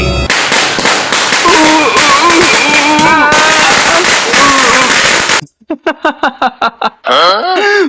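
Voices talk for a while, then a rapid string of about six sharp, loud firecracker bangs goes off, followed by more talking.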